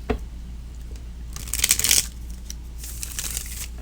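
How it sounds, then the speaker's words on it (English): A tarot card deck being riffle-shuffled, with a soft papery flutter building into a louder crisp burst of cards, then lighter riffling afterward. "It is said that 7 shuffles, it gives the most randomization of a deck of cards this way."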